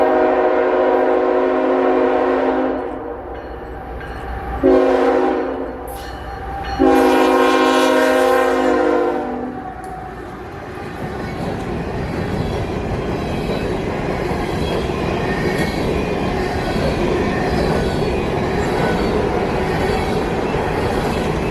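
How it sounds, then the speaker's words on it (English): An empty coal train, running from Cross, South Carolina to Evansville, Indiana, sounds a loud, long horn in several blasts, then passes close by with a steady, heavy rumble of wagons on the rails. "another coal train, this one also being empty"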